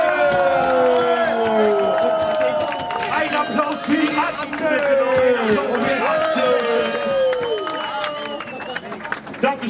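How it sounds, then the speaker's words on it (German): A large concert crowd at a 2013 show cheers and applauds loudly and continuously, with whoops rising over music-like tones and a sustained roar. "ein Applaus"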